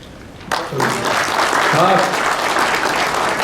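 A seated audience at a modern history lecture breaks into applause after a quiet start, a dense burst of clapping that holds steady, with a voice speaking over it.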